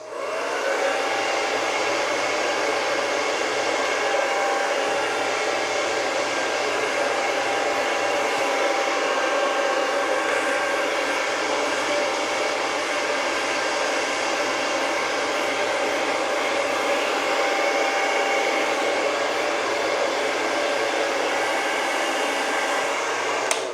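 Hair dryer blowing cool air on a beard, a loud, steady, continuous whirring rush with a constant motor whine, unchanged throughout and with no talk.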